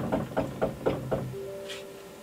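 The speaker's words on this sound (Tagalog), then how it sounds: "may kumakatok" Knocking on a door, five firm evenly spaced knocks close by, followed by a faint sustained tone and quiet room sound.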